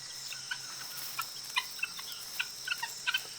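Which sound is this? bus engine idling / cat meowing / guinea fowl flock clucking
guinea fowl flock clucking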